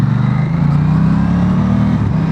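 Aprilia Tuono 660 motorcycle with quick shifter and blipper ridden through a cedar forest, a loud steady engine drone holding pitch with a brief shift near the end, heard up close.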